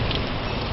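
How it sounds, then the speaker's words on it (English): Heavy rain pours down during a Tennessee rainstorm, a dense, loud, continuous hiss of drops on surfaces across the brief moment. "like really raining, extremely raining"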